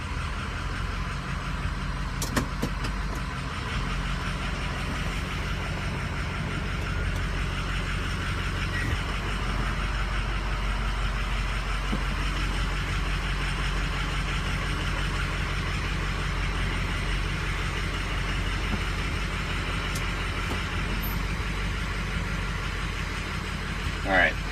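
A restarted Harley-Davidson motorcycle engine idles with a steady low throb that stays even and fairly close, while someone talks over it.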